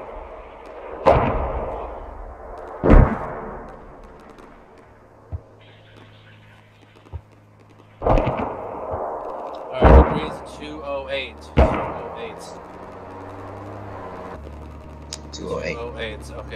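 Artillery in the tactical shooter Squad fires in a mission, several heavy booming shots spaced a couple of seconds apart, with mechanical clanks and creaks of loading between, voices talking over parts.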